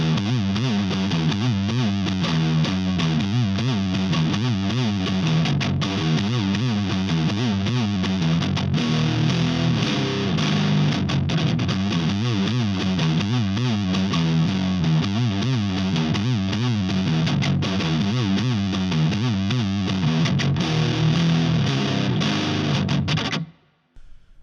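Heavy, distorted electric guitar chugs on open low notes in a steady, pounding rhythm, loud and dense throughout before cutting off abruptly near the end.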